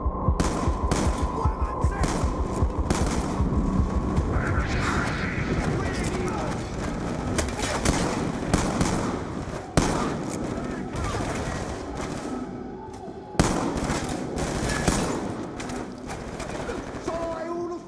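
Dense, loud gunfire from Call of Duty Black Ops 2, rapid bursts and single shots running almost continuously through a ship assault with turret fire, mixed with game dialogue and voices talking over it.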